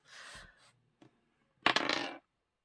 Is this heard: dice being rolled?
yes